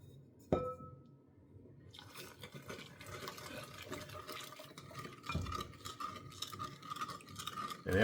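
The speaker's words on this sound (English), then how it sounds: "let's get started by mixing our jello" A clink of glass, then a wooden spoon stirring jello with boiling water in a bowl, soft swishing with faint scraping and light taps against the sides, close and quiet.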